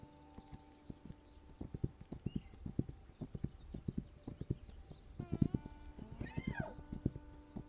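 Horse hooves clip-clop in a steady trotting rhythm in a survival video game, soft and close, ending with a short whinny near the end.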